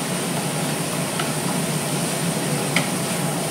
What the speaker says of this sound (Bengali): আদাটাকে ভালো করে কষিয়ে নেবো এটার সঙ্গে